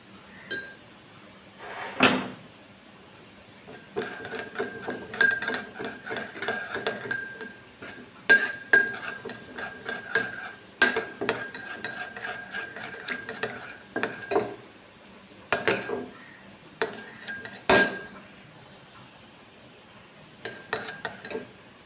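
Spoon mixing coconut oil in a bowl, giving repeated light clinks and scrapes against the bowl in irregular bursts with short pauses, close and moderately quiet, no voices.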